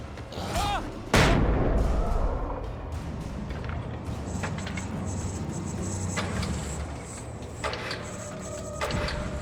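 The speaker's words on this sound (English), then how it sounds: "Flashbang out." A flashbang grenade goes off in the video game Alan Wake Remastered: one sharp, loud burst near the start, followed by a lingering ringing hum and game ambience, with no talk.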